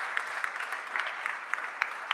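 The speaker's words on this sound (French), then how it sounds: "On peut s'applaudir," Scattered applause from an audience at a Salesforce Marketing Cloud user group evening, light and thin with a few distinct claps standing out over a soft patter.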